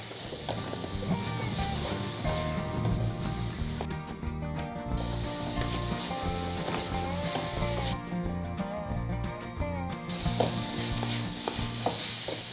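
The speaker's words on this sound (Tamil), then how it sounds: "நல்லா அடி பிடிக்காத அளவுக்கு இப்படி கிளறி விட்டுக்கிட்டே இருங்க." Goat blood cooked with egg sizzles steadily in a pan under continuous stirring, with soft scraping strokes and a constant frying hiss close by; no speech.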